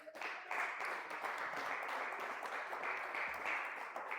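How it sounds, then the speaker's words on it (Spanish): A church congregation claps together in steady, fairly dense applause, heard from a short distance and lasting the full few seconds. "Un fuerte aplauso al Señor"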